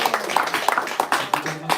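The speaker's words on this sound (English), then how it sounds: "We all can give him a round of applause." A few people clapping at a spiritual talk session, a sparse, fairly regular run of claps close by, with a voice speaking alongside.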